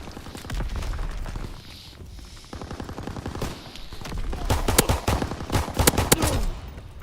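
Pistol fire in the World War II shooter Call of Duty: WWII: sharp shots ring out in quick, uneven bursts, sparse at first and then thicker and louder toward the end, with no talk over them.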